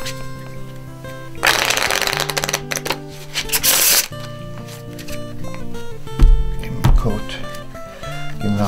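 A deck of playing cards being shuffled at close range, with bursts of riffling and crisp card flicks in the first half, then quieter handling and soft taps.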